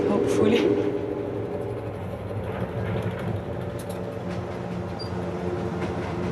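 A train climbs the Pass of the Clouds mountain route at low speed, with a steady rumble and some rattling. Someone talks over it throughout.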